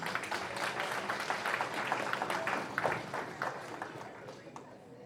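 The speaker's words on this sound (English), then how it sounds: "would you all please, a big round of applause for Mickey one more time" Guests at an Asante Adehyeman fundraising dinner dance in DFW give an honoree a round of applause, with steady mid-distance clapping from the room continuing under a speaking voice for several seconds.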